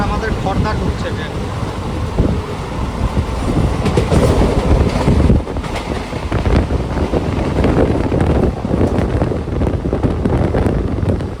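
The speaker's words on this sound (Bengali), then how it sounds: "এবার আমাদের খড়দা ঢুকছে ট্রেন।" Maa Tara Express out of Sealdah runs into Khardah station, a loud continuous rumble of rolling coaches with rail clatter and heavy wind buffeting the microphone throughout.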